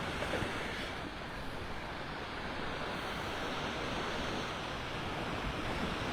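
Ocean surf washes onto the beach at Delnor-Wiggins in North Naples, Florida, at sunset, a steady broadband roar mixed with wind noise and no voices.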